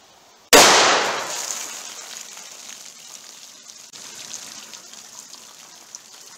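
.38 Special gunshot fired through layers of winter clothing into water jugs: a single sharp, loud crack followed by a long decaying wash of splashing and dripping water.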